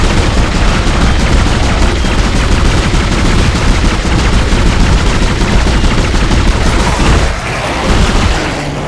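Relentless automatic gunfire from the Dead Space video game, a dense, loud, continuous stream of shots lasting several seconds before a brief dip and a resumed burst near the end, with no voices.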